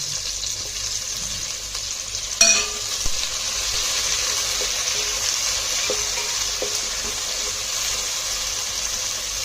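Tomato pieces sizzle and fry in a pan of onion for mutton biryani, a steady loud hiss broken by a sharp clatter early on and a few light knocks afterwards, with no talking.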